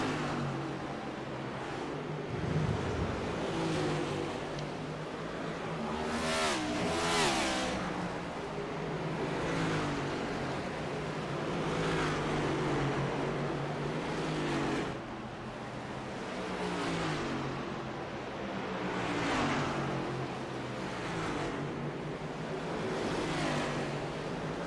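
Race cars lap North Wilkesboro Speedway in a continuous engine drone, with repeated swells as cars pass by at moderate distance and a steady roar throughout.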